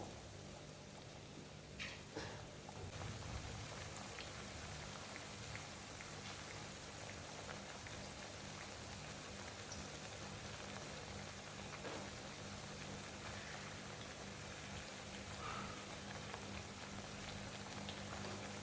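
Thattai rice crackers deep-frying one at a time in hot oil over a medium flame, a steady dense sizzle and bubbling that carries on for the whole stretch without speech.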